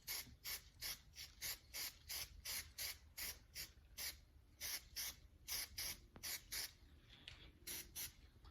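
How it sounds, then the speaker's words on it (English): Can of Master Pro weld-through primer sprayed onto a sanded sheet-metal piece in a hot rod workshop, a series of short hissing bursts in a regular rhythm, close and alone. "what I've got here is some Master Pro Weld Through Primer. Just going to hit this piece."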